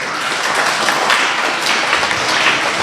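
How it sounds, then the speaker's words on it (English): An audience at a school award assembly claps for a student, producing a steady, dense wash of applause from many hands that fills the room evenly. "Yeah, give him a clap, that was great."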